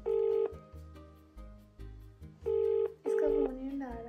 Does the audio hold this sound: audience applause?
no